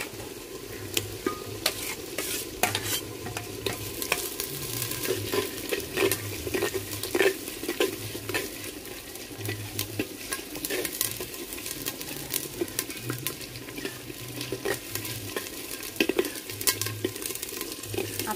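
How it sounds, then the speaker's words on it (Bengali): Ginger paste and garlic fry in a pan with a steady, moderate sizzle, broken by frequent light clicks and scrapes of stirring, and a faint low hum sits underneath throughout. "আদাটা দিয়ে দিলাম, এখন আদাটাও হালকা ভাজে নেবো"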